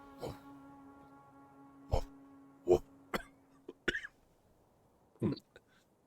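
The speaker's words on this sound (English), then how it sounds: "the cough of the GM" A series of sharp coughs, about six or seven, scattered irregularly over a few seconds against a low steady hum, fairly close.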